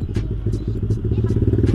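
A Yamaha MX King 200cc motorcycle fitted with a short Pekajaman exhaust rumbles nearby while riding, its deep, pulsing burble loud and continuous.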